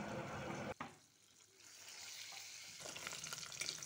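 Boiled eggs fry in hot oil seasoned with turmeric and salt, a loud steady sizzle broken by a brief sharp drop as they go in, then building back into dense crackling spatter.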